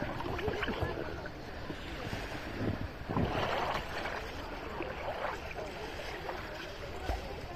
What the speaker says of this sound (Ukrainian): Мотор сзади завелся.